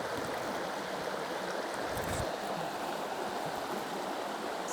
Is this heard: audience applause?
no